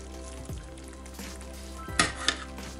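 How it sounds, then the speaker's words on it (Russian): Cooked spaghetti drops into a pan of bolognese sauce with a soft, steady sizzle, a few small splashy clatters as it lands. "и опускаем их в соус"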